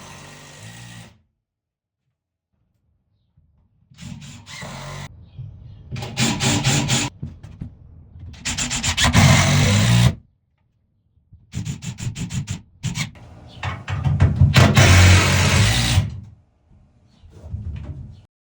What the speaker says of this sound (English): I am running a couple screws into each exposed 2x4.